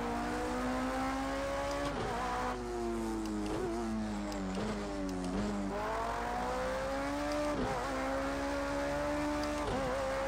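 A race car engine in a racing game played on a Logitech G920 wheel climbs in pitch and snaps down repeatedly as it shifts up through the gears, loud and close, with a few brief tire squeals.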